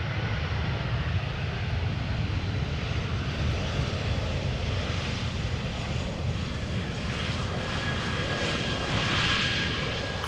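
Croatia Airlines Airbus A319 jet arriving from Zagreb at Amsterdam Schiphol, a steady broadband engine roar held at a fairly even level throughout, with a faint whine rising near the end.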